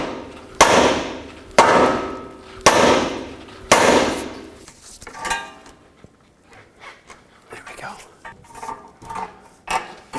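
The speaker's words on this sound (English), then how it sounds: "take a hammer, hit the knuckle so that you can separate the control arm from the ball joint" Four loud metallic hammer strikes on the steel steering knuckle of an Acura TL, evenly spaced, ringing briefly, followed by quieter clanks and rattling of tools.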